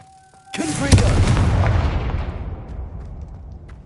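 A Confringo fire spell explosion in the Hogwarts Legacy video game, a sudden loud blast that hits hard, swells with a second crack, then rumbles and fades over several seconds.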